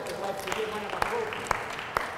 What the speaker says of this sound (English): Let's give the Lord a clap of praise for that